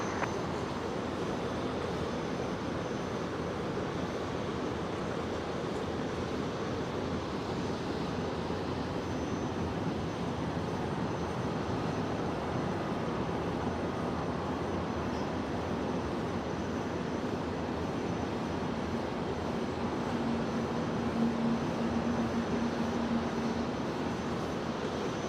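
An airliner powers up for takeoff on runway 01 left at Brisbane Airport, a distant, even jet roar that holds steady for the whole stretch, alone with no talk.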